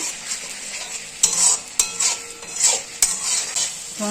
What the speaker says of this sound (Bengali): মশলাটা আমি ততক্ষণই কষবো যতক্ষণ না টমেটোটার গন্ধটা বেরিয়ে যাচ্ছে